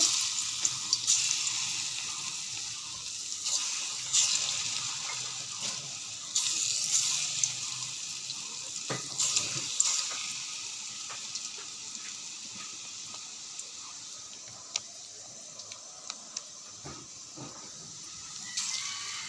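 Mung dal pakora batter frying in a hot wok, a steady broad sizzle and hiss running throughout with a few brief clinks and louder bursts, close by and without talk.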